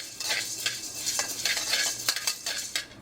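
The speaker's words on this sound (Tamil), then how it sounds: "இதை ஒரு பொன்னிறமாக வறுத்துக்கிறேங்க" A utensil stirs and scrapes roasting garlic in a pan while making coriander masala powder, with soft irregular clinks and scrapes over a faint sizzle, close and quiet with no talk.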